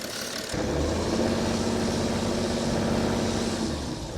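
A car engine idles steadily while warming up to temperature with its engine cover removed, a low, even hum that starts half a second in and holds without change.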